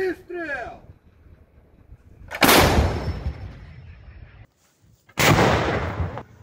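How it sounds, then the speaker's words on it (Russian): An artillery gun fires outdoors in winter near Donetsk, with two loud booming blasts a few seconds apart, each trailing off in a rolling rumble, and a voice shouting just before the first. "И по команде производит выстрел."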